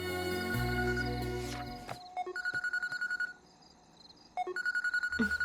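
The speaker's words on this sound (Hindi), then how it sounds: "ये तो दोबारा फोन कर रहा है।" An electronic phone ringtone plays a repeating melodic pattern of beeps, pausing briefly and then starting again, fairly close.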